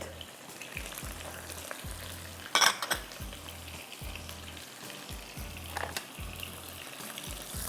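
Sliced onions and whole cashews fry in a pan with a steady, close sizzle, broken by soft rhythmic thumps and a brief clatter of utensils partway through.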